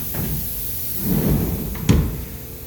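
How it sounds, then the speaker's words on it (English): Doors of a CNC milling machine enclosure slide shut, with a low rolling rumble followed by a single sharp closing thud near the end, close and fairly loud. "I'm going to close the doors at this point"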